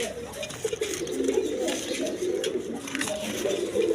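Pigeons at a seller's place coo in a continuous low burble, a little muffled and mixed with faint background noise and occasional patter.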